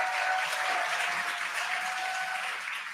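A crowd at the Crew-9 Dragon Freedom splashdown cheers and applauds as the drogue parachutes deploy, a steady dense wash of clapping and excited voices lasting throughout, loud and close, with no talk over it.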